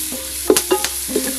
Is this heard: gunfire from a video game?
no